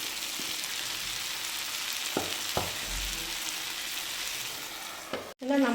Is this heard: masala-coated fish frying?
yes